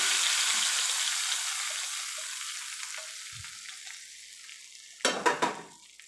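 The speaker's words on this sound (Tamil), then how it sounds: "இப்போ இந்த தாளிப்பு வந்து சாம்பார் மேலே சேர்த்துக்கலாம்" Hot tempering is poured over a pot of sambar, and a loud, close hiss of sizzling oil fades slowly before a few clanks of a pan or ladle come near the end.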